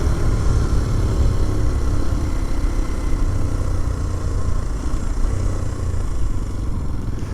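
Kawasaki KLX230SE motorcycle being ridden, a steady, close single-cylinder engine drone with rough low rumble and wind noise throughout; no talking.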